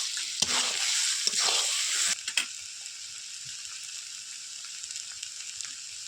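Crab curry with ripe ash gourd sizzles loudly in a pan while a spoon stirs it with a couple of scraping knocks, then the frying settles to a softer, steady hiss for the rest of the stretch.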